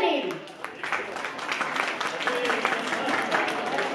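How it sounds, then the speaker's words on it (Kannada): Audience applause at an award event honouring foundation trustees, a sustained burst of many hands clapping, fairly loud and steady throughout. "ಅದಕ್ಕೆ ಗಂಡಸರು ಹೆಣ್ಣು ಮಕ್ಕಳಿಗೆ ಇಂದು ನಮಗೆ ಜೋರಾದ ಚಪ್ಪಾಳೆಯನ್ನು ನೀಡಿ"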